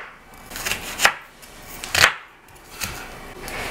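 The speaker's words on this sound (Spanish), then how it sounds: "Picaremos también la cebolla, siempre bien pequeñita" A knife chops an onion on a board into thin slices, with several sharp, distinct cuts spaced about a second apart, close and clear with no talking.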